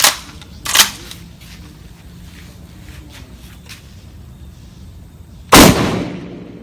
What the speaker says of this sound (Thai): จะลองยิงดูกลุ่มทั้งหมด 4 ระยะนะครับ